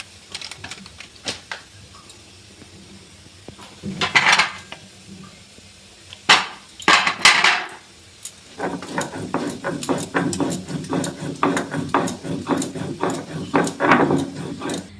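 Cumin and spices are ground by hand for a banana-leaf meat paturi, making sharp knocking and scraping strokes, first a few sparse hits and then a quick, steady run of rhythmic grinding taps up close.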